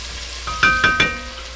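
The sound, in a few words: sausage sauteing and sizzling in a pan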